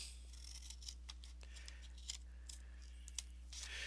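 Scissors snipping paper squares for paper kiss holders, a quiet close series of short irregular cuts and clicks over a steady low hum.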